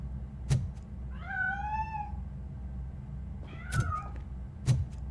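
A cat meows in the video game Robocop: Rogue City, giving one drawn-out wavering meow and then a shorter one later, set against a steady low ambient hum with a few sharp clicks.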